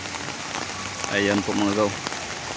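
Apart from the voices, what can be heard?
rain falling on garden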